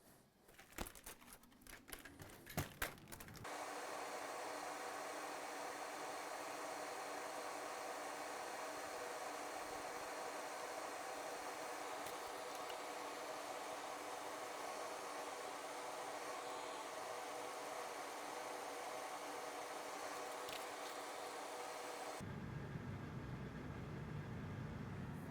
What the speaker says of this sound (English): Fume extractor on.